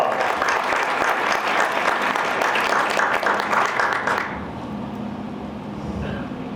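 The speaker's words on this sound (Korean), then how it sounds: "힘차 박수로 시작하겠습니다" Vigorous applause from a morning business-networking meeting audience, dense clapping for about four seconds that then stops abruptly, leaving quieter room ambience.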